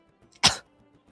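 A person coughs once, a short sharp burst after accidentally inhaling their own saliva, close to the mic and standing alone against near silence.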